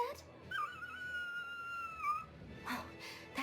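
Dog whimpering in the video game Tales of Berseria, a thin high whine stretching over about two seconds, moderately loud with faint game ambience and brief other vocal sounds around it.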